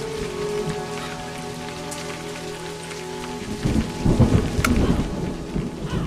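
A game thunderstorm with steady rain hissing throughout, then a burst of heavier rumbling thunder and crackling downpour in the second half, with no voices.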